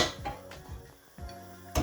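Meat going into a saucepan in a home kitchen, heard as a few close clanks and scrapes of metal cookware spaced across a short moment, with no talking.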